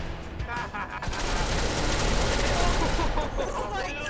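In SCP Secret Laboratory, a group of players opens fire together at an elevator, a dense, loud, continuous barrage of overlapping gunshots that kicks in after a second of scattered shots, with voices mixed faintly underneath.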